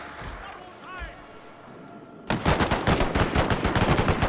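Rapid, ragged rifle volleys and rolling gunfire crackle loudly in a Total War battle of the Anglo-Zulu War, bursting in after quieter moments with shouting voices and continuing as a dense, uneven fusillade.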